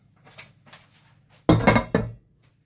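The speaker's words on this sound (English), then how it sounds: "I'm going to empty them in along with the mix that they're in." Cooled, toffee-coated apple pieces are tipped from a pan into gluten-free apple cinnamon cake batter, making a short clattering scrape and a couple of thunks after some faint rustling.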